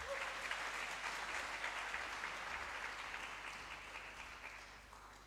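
An audience at a geopolitics conference in Kampala applauds as the keynote speaker is welcomed. The clapping is sustained and even, then slowly fades toward the end.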